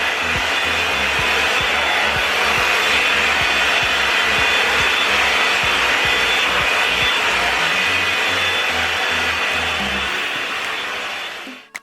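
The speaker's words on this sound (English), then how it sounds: "I'm going to separate my hair and begin blow drying it." A blow dryer runs continuously at high heat on 4C/4B natural hair being straightened with a comb attachment, a loud steady whooshing roar throughout with no talking, cutting off at the very end.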